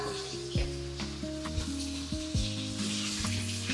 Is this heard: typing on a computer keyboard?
no